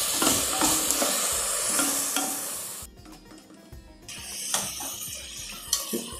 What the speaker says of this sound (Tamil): இது தக்காளிக்கு மட்டும் கொஞ்சமாக வதங்கணும்